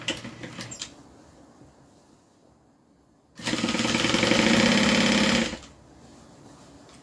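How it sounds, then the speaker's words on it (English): A sewing machine back-stitches the side seam of a drawstring dust bag, running in one loud, fast two-second burst after quieter handling noises, up close with no talk. "Back stitch on the sides."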